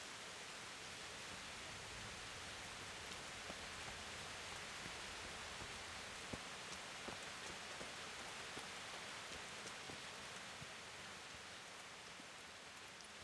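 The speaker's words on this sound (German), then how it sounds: "Aber es regnet, sieht man weiter." Steady rain in the medieval video game Kingdom Come: Deliverance, a dense, even hiss of falling drops that keeps going at a constant low level with no talk.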